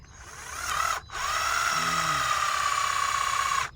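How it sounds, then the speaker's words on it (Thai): Power drill boring a line of holes for a corn-farming job outdoors, a loud steady whine that cuts out briefly near one second and then resumes, running continuously to the end with no talk. "แล้วพ่อบ้านก็จะเจาะเจาะเจาะไปถึงถึงสุดนู่นเลยนะ"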